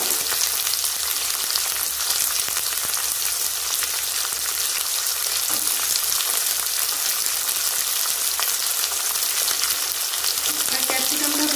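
Chicken sizzles and fries in a pan with onions, capsicum and tomato, a steady loud crackle with occasional stirring scrapes throughout.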